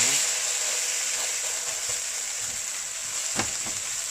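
Eggplant omelette (tortang talong) frying in a pan, a steady, even hiss of oil sizzling close by with a few faint clicks, and no clear talk.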